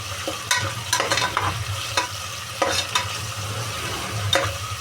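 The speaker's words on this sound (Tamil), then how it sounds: "டொமேட்டோ போட்டுக்கோங்க. டொமேட்டோ நல்லா ஃப்ரை ஆகணும்." Tomatoes fry in a pan for tomato bath, with a steady sizzle under periodic sharp stirring scrapes and clinks from a spatula, all close and fairly loud.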